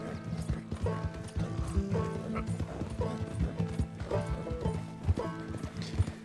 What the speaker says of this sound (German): Ja, das Pferd kann ja doch schnell sein.